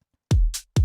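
A hi-hat sample at its original pitch gives a short, bright hiss between two deep, punchy kick-drum thumps in a sparse electronic beat, with no voices.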